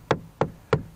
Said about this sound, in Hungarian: már sajnos csak ilyen kopogós műanyag jutott